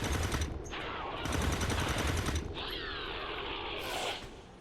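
Rapid bursts of video game gunfire from XCOM 2 soldiers taking Overwatch shots, rattling mechanical volleys with clicks, loud and close, no talking.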